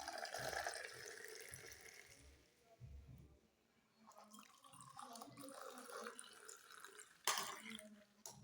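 Frothy liquid splashing and streaming as homemade cappuccino coffee is poured back and forth between vessels, in uneven bursts with brief pauses, fairly close and moderately loud.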